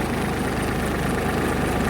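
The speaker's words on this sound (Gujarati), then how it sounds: "અહીંયા જુઓ આપણું ટ્રેક્ટર ઇન્ડોફાર્મ ત્રીસ અડતાલીસ ડીઆઈ ટ્રેક્ટર છે પચાસ એચપીનું" An Indofarm 3048 DI 50 HP tractor runs a fennel thresher at about 1100 RPM. The engine gives a steady, close, low diesel throb with an even pulsing beat and no talk over it.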